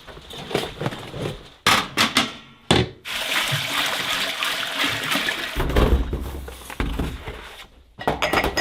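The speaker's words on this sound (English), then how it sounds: "We're rinsing our jars and cleaning them and double checking them for like cracks" Canning jars being rinsed for preserving vegetables: water gushes and splashes in bursts, with short pauses and a long steady run of pouring water in the middle, close and fairly loud.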